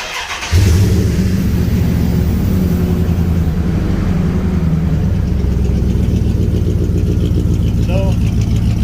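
A 1950 Dodge pickup truck engine cranks and catches, then settles into a steady, loud low idle with a rough mid-range rumble right up close, running on continuously.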